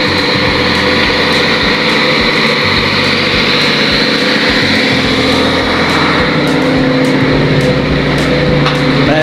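A ship's engine room with its machinery running loud and steady, a dense continuous mechanical roar and hum close by, the ship fresh from drydock with new paint.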